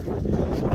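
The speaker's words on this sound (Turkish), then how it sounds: "Hava rüzgar var ya." Steady wind buffets the microphone with a low, rough rumble, continuous and close, while herding animals in harsh winter weather.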